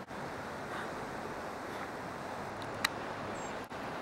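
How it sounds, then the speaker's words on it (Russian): A river rushes in a steady broadband roar close to the microphone near the Geghard monastery by Yerevan, with wind buffeting and a brief click partway through, and no talk. "И река шумит, слышите?"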